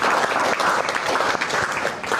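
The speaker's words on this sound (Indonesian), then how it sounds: "Kita boleh tepuk tangan dulu," An audience applauds at an Indonesian talk event, a lively sustained round of clapping with uneven swells, close and loud with no voices standing out.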